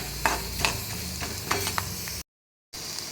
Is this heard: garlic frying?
yes